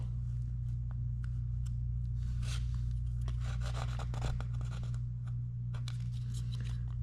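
Soft, intermittent rubbing and scratching as fill stick putty is worked into a scratch in laminate, faint strokes over a steady low background hum.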